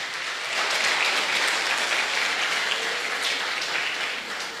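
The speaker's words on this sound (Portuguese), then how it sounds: "Aplaude e glorifique Jesus" A church congregation applauds during a worship service, a dense, steady wash of clapping from many hands that holds evenly for several seconds with no voices over it.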